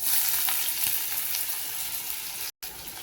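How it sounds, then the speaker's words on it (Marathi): Chopped onion dropped into hot oil where mustard seeds have already spluttered, giving a loud, close, continuous sizzle and hiss that eases slightly, then cuts out briefly near the end. "राई झाल्यावर कांदा टाकते."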